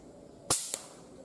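Air rifle fired at a monitor lizard outdoors: a single sharp, close crack followed a moment later by a smaller snap, then quiet background.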